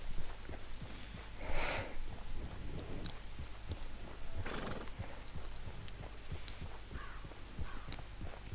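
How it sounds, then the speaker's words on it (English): Steady clip-clop of a horse's hooves plodding along in Red Dead Redemption 2, with a couple of loud neighs and whinnies rising over the continuous footfall. "Beautiful horse."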